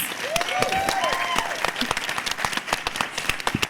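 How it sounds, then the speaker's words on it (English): An audience at a WonderCon convention panel applauds for the room volunteers, a steady wash of many hands clapping close by, with some voices and whoops mixed in. "Can we get a round of applause to the volunteers running this room, please?"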